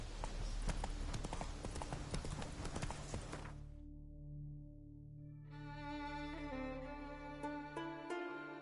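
Rhythmic clip-clop of a galloping horse's hooves in the video game Witcher 3, steady and close for a few seconds, then giving way to a sustained tonal drone.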